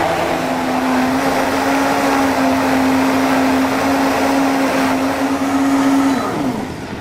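A Katana Royal Catering RCMB-2LA high-performance blender runs on its highest setting while making puree, a loud, steady close-up motor whine with a constant pitch that holds for about six seconds and then drops away as it shuts off.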